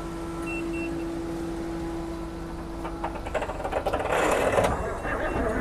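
An old log skidder's engine cranks over with a steady mechanical whirr that grows louder and rougher toward the end, with people talking nearby.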